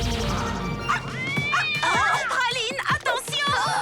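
A cartoon space cat meows in a playful, exaggerated voice, several wavering high cries in quick succession, close and loud, mixed with other cartoon sound effects.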